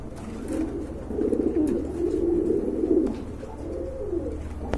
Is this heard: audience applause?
no